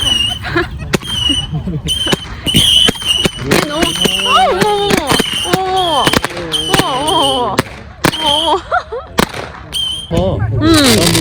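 Rapid bursts of fireworks crackle and bang repeatedly, loud and close, on the seashore at Jebudo island, Korea, while excited voices exclaim and laugh over the explosions.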